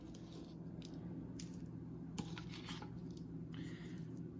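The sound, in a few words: hands mixing ground venison with seasoning in a bowl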